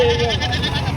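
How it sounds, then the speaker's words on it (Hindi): A goat bleats at a livestock market in Tando Allahyar, a loud close wavering cry under voices talking in the crowd. "गाइस ये बकरा है"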